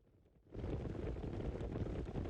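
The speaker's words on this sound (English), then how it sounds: "he gave Pracy something before setting off the cannon right here." A cannon fires in a cutscene from the video game Star Ocean 2: a sudden loud blast bursts in after a quiet moment and continues as a dense, sustained rumbling roar.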